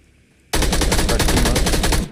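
Rapid automatic gunfire in the PUBG battle royale video game erupts after a moment of quiet, a loud, steady burst of closely spaced shots continuing to the end.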